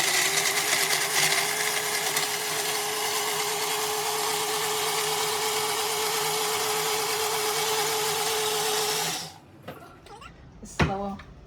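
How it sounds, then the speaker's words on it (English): A blender whirs steadily at high speed, mixing an oil-based mango and black fig vinaigrette, a loud sustained motor drone that cuts off near the end, followed by a few brief clunks. "I'm gonna go ahead and blend these ingredients together"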